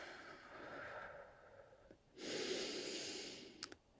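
Heavy, audible breathing from a person holding a plank during a beginner bodyweight workout, with a steady rush of breath that swells louder midway and ends in a couple of short sharp exhales.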